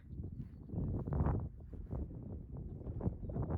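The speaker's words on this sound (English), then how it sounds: "Super windy again" Strong gusting wind buffets the microphone on an open moorland walk on Dartmoor, a steady low roar with surges, heard alone with no talking.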